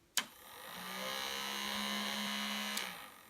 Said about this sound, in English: I just replaced the lamp with the motor for the fan